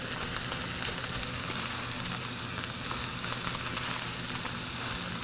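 Cabbage stir-frying in a non-stick wok for egg rolls, a loud, steady close-up sizzle with faint stirring scrapes and no speech.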